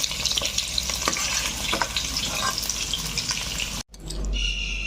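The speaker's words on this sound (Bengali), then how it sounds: "আর দুটো কাঁচা লঙ্কা একটু ভেজে নেব" Two green chillies fry in hot oil in a pan for a Bengali kulekhara greens dish, a steady close sizzle with scattered stirring clicks that cuts off briefly and then gives way to a brighter hiss.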